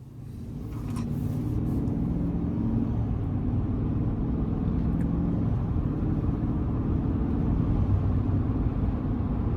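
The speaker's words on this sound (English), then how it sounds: "take this 2023 GMC Sierra 1500 SLT X31 out on the road for a quick test drive" A 2023 GMC Sierra 1500 SLT X31 pickup with a 5.3-liter engine and 10-speed automatic cruises on the road, giving a steady low cabin rumble of engine and road noise that holds even throughout after a brief rise at the start.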